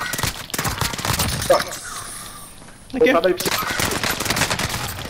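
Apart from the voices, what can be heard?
gunfire in video game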